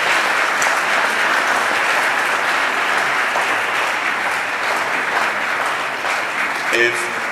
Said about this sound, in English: Shall we applaud him again, ladies and gentlemen?